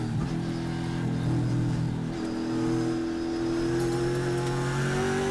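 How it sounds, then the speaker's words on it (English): Ford Mustang Trans Am race car engine at Thunderhill, revving steadily with rising and falling pitch, loud and close, a shift-like break midway, no talk. "he's just trying to feel the car out right now in that Ermish Ranch Bunny Farm 510 parts outlet Ford Mustang"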